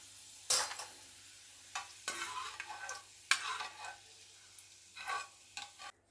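Garlic frying in a pan for an onion-tomato gojju, stirred in irregular bursts of scraping and sizzling, fairly quiet and close, with no talking.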